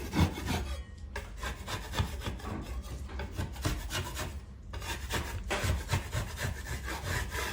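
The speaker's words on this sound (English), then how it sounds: "I'm just going to go around my 4-inch level 5 taping knife and scrape it off." A 4-inch taping knife scraping old knockdown texture off a ceiling, rapid rasping strokes in a steady rhythm, close and fairly loud, with brief pauses between passes.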